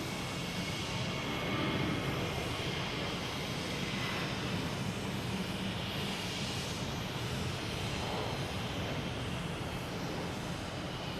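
A JetBlue airliner bound for Jacksonville rumbles steadily at Boston Logan Airport, a broad continuous engine roar that holds at an even level throughout without any voices.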